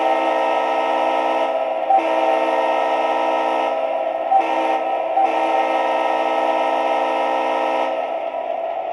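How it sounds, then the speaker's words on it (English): A crossing horn on an MTH Premier GP9 model train locomotive sounds as a loud, steady, multi-tone horn chord. It holds almost unbroken for nine seconds, with a few brief dips and restarts. "Now we're going to go to the crossing horn."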